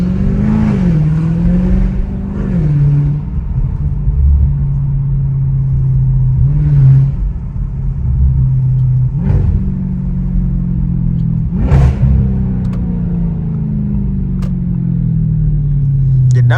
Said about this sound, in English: The downshift just sounds so aggressive